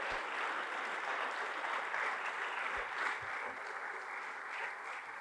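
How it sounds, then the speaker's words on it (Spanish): Church congregation clapping together as an offering of applause during a Spanish-language worship service, dense continuous applause filling the room at steady loudness from start to finish. "Démosle una ofrenda de palmas al Señor."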